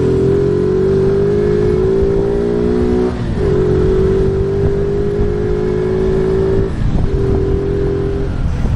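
Modenas Kriss 125 FI motorcycle on a test ride, its engine droning steadily and climbing in pitch, with two brief dips where the rider shifts gear.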